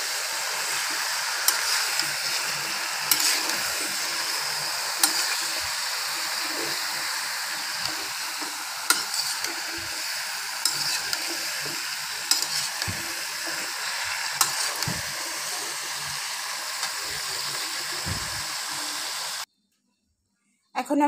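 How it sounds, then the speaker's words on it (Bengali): Bottle gourd is stirred in a hot pan with cumin paste, a continuous hissing sizzle with scattered scraping clicks of the spatula, close and steady before falling silent at the end. "আমি লাউটাকে একটু নেড়ে চেড়ে নিয়ে"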